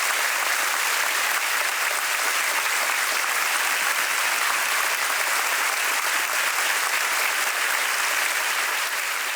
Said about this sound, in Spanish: Por eso le damos un fuerte aplauso